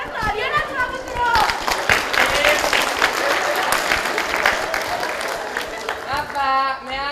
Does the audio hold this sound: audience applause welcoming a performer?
yes